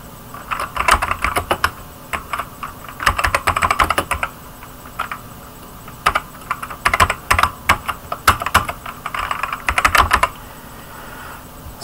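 Code is typed on a computer keyboard, with quick clustered bursts of crisp keystrokes broken by short pauses, close and clear with no talking.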